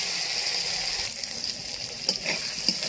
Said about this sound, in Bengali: মশলাটা দিয়ে একটু ভাজা ভাজা করেছি